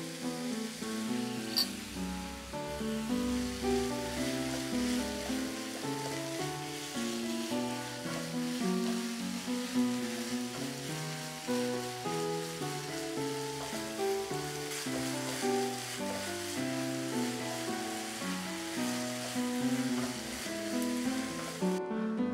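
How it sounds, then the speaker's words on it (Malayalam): Sliced onions sauté in a pan for a dhaba-style paneer curry, giving a soft, steady sizzle that runs without a break beneath quiet background music. "ഈ സവാള നമുക്ക് നന്നായിട്ട് വഴറ്റിയെടുക്കാം."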